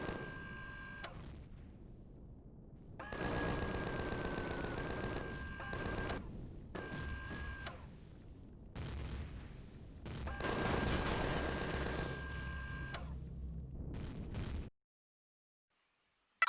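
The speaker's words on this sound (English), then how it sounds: "These guys spent most of the fight hurling rockets into the side of the mountain without doing any damage at all." Zirax rockets from the Empyrion video game hammering into the side of a mountain base, heard as several loud bursts of rapid mechanical firing and impacts separated by short pauses, then ending abruptly.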